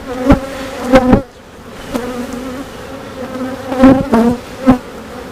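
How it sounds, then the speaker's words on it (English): Honeybees buzz loudly and closely around a hive, several individual insects droning past in bursts, with a softer hum in the gaps between them. "that's a lot of bees"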